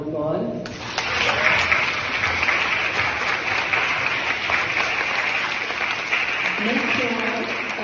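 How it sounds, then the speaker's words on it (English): At a graduation ceremony a large crowd gives a sustained round of applause for the graduates' parents, a dense, roaring wash of clapping throughout, with a speaker's voice heard briefly at the start and end. "please give your parents a round of applause"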